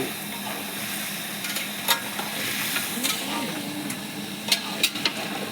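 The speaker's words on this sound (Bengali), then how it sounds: "মাংস কষানো হচ্ছে।" Meat stirred and sautéed in a pan, kosha-style, with a continuous close sizzle and occasional clinks and scrapes of a spoon against the pan, no talk.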